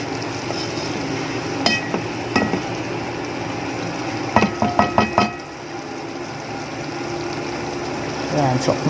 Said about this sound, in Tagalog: pwede na nating haluin.